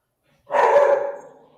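A dog gives a single loud, close bark that trails off into a brief whine, heard on its own in a quiet room.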